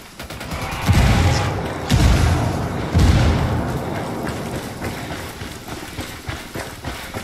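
A grenade explodes in a first-person shooter video game, one of a run of heavy booms arriving about a second apart amid continuous loud battlefield gunfire and rumble.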